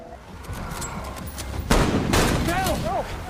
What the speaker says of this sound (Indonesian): rumah Bill dan Frank tiba-tiba saja diserang oleh para bandit